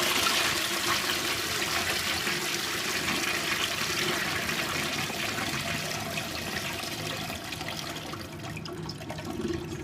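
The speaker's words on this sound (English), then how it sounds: "This is the bathroom toilet flush." An Armitage Shanks bathroom toilet flushing, a steady close rush of water that holds for the whole stretch and eases slightly toward the end.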